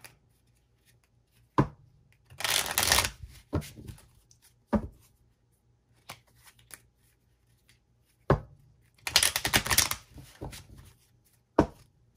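Tarot cards handled in two bursts of shuffling, each set apart by single sharp taps as cards are set down, close and otherwise quiet.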